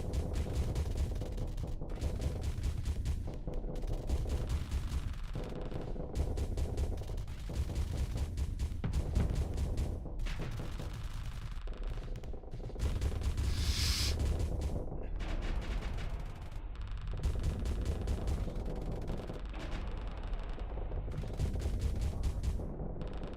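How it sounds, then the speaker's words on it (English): Needler weapons fire continuously in the Starsector space combat game, a dense, heavy barrage of rapid booming shots and impacts sustained throughout, with no voices. "we're just relying on the needlers. Right. Yeah, now they're firing."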